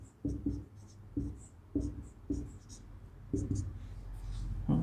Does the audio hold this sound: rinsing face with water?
no